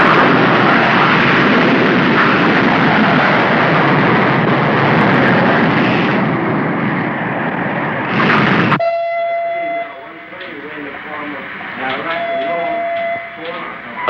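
An aircraft over Haneda Airport in a monster film roars loudly as a dense, continuous rumble for about nine seconds, then cuts abruptly to quieter voices and ringing tones.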